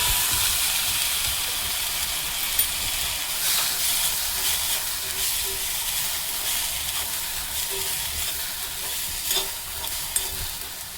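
Washed moth beans (matki) are dry-roasted in a kadhai, giving a steady close sizzling hiss with faint scraping stirs throughout, no voices.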